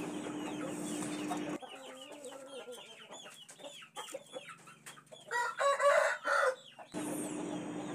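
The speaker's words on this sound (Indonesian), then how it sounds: "yang ada di kandang back to farm adalah ayam BK ekor lidi" BK ekor lidi chickens cluck and a rooster crows in a busy coop, with loud calls bursting out near the middle and steady farmyard noise around them.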